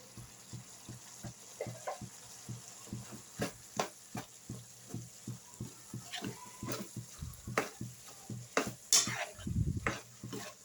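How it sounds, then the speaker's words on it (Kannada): Coarsely ground coconut and green chili being stirred into a sizzling beetroot and chana dal palya, with a steady rhythm of soft spoon taps and scrapes against the pan over a faint sizzle, close by and without talk. "ಇವಾಗ ತೆಂಗಿನಕಾಯಿ ಮತ್ತು ಹಸಿಮೆಣ್ಸಿನ್ಕಾಯಿನ ತರಿಯಾಗಿ ರುಬ್ಬಿರೋದು ಹಾಕ್ತಾಯಿದ್ದೀನಿ"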